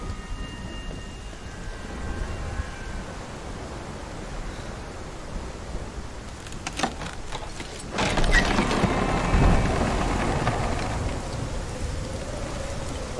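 Steady rain hiss with rumbling thunder in the video game Hellblade: Senua's Sacrifice; the rain grows heavier and louder partway through.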